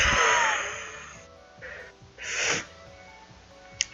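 A half-finished sneeze from a character in the game Sakura Shrine Girls: a breathy burst at the start, then a couple of softer airy puffs, and a small click near the end.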